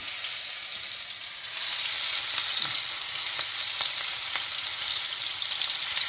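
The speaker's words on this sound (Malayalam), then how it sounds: "ഇനി അതവിടെ ഇരുന്ന് നല്ലതായിട്ട് ഫ്രൈ ആവട്ടെ കേട്ടോ" Masala-coated fish frying in oil with whole curry leaves, giving a steady, dense, bright sizzle that holds evenly throughout, close and fairly loud, with faint clicks of spattering oil.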